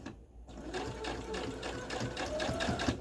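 A sewing machine stitches a short back stitch and then runs a straight seam on jersey fabric, its steady rapid whirring needle rhythm carrying on without pause, close and clear.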